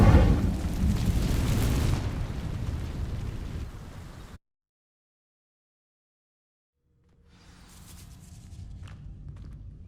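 The Incendio fire spell cast in the video game Hogwarts Legacy sets off a loud whooshing burst of flame that slowly fades out and drops to silence, followed by faint rumbling and crackling game sounds.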